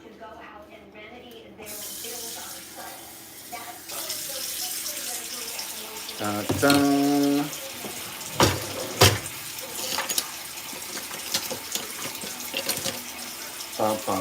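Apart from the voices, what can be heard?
water running from tap for measuring cups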